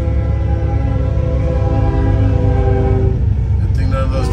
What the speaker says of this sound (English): Uh-oh, another train's coming through,